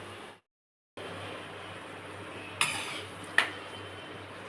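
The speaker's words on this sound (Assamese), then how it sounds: "এতিয়া ঢাকনখন লগাই দিওঁ" A lid is set onto a cooking pot of simmering potatoes and tomatoes for an Assamese fish curry, making two short metallic clinks about a second apart over a low steady background hum.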